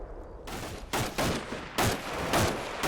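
Rifle fire crackles in the video game Combat Mission: five or six sharp gunshot bursts land in quick irregular succession, loud and close, with rattling echoes between them.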